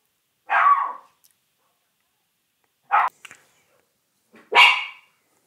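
A dog barks three times at spaced intervals, fairly close and sharp, with silence between the barks and no talking.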